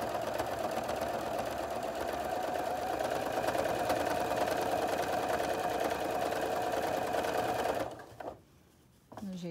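A sewing machine stitches a curved seam with a steady, close mechanical whirr that runs evenly for several seconds, then stops abruptly and is followed by a brief clunk and quiet handling.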